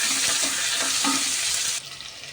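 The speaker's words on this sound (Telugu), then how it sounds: "క్యారెట్, బీట్రూట్, కాస్త ఫ్రై అయినాక అప్పుడు టమాటా," Carrot, beetroot, onion and green chillies with tomato frying in a pan, a steady close broadband sizzle with a few stirring scrapes, cutting down abruptly near the end.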